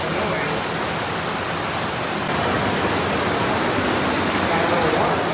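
A small waterfall inside the Miller Tunnel at Malakoff Diggins gives a steady, loud, broadband rush of falling water that echoes in the tunnel and fills the whole moment.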